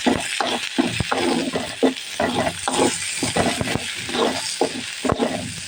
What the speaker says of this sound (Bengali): আমি আলুগুলোকে মশমস করে ভেজে নেব পেঁয়াজ রসুনটাও একটুখানি সামান্য হালকা করে ভেজে নেব